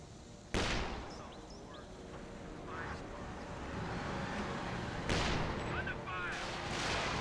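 Artillery barrage in the real-time strategy game Company of Heroes 2: a sharp blast opens, another heavy impact follows mid-way, and rumbling battle noise with scattered gunfire runs underneath throughout.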